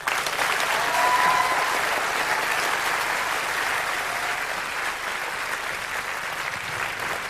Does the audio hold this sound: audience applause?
yes